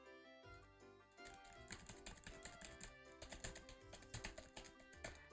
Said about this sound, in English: My typing you can hear.